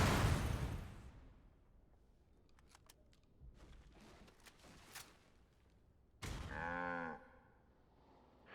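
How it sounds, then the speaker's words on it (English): Gekko walkers in Metal Gear Solid 4 letting out cow-like mooing cries, a loud burst at the start, faint clicks and mechanical sounds, then a drawn-out moo near the end. "They do sound like cows, and apparently they're called geckos."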